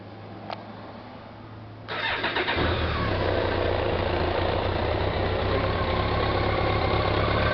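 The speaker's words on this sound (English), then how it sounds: "Hear that rattle on there? That's the thrust bearing." A 2001 BMW K1200RS motorcycle with a worn clutch thrust bearing cranks and catches, then settles into a steady, close idle with a busy mechanical rattle running through it.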